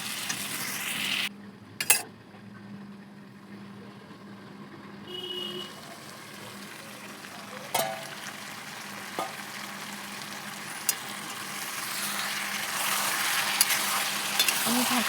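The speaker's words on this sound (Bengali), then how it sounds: "মাংসটা দিয়েও আমি ভালো করে কষিয়ে নেব" Chicken meat frying in a pan, a continuous hiss and sizzle broken by a few clanks and scrapes of stirring, growing louder and brighter toward the end.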